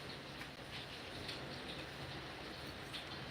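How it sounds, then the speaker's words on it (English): Rain falls steadily during a Florida storm, a dense, even hiss of drops that is faint and continuous, with no voices. "Here goes the rain again."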